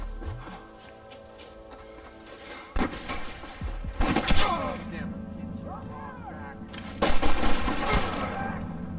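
Gunfire in the Western video game Red Dead Redemption during a village shootout, with loud bursts and rapid volleys that come in waves, mixed with music and game effects.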